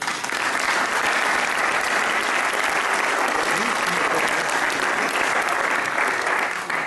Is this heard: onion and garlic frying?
no